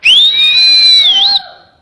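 A single loud, sharp whistle blast held for over a second with a slight wavering pitch near the end, then cutting off cleanly into quiet, heard alone with no talk.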